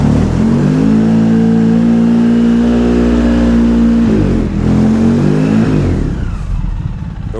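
A Polaris Sportsman 700 ATV engine revs steadily in low gear, loud and close, with a sustained tone that drops away after about four seconds, then builds and fades again near the end.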